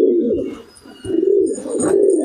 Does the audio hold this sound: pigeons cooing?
yes